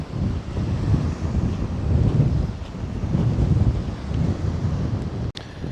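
Strong wind roars across the coast near Werribee South, buffeting the microphone in a loud, continuous rush that cuts out briefly near the end.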